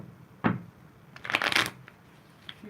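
A deck of tarot cards is shuffled in a few quick riffling bursts, one short snap followed by a louder flurry of card noise, close and clear with no talking.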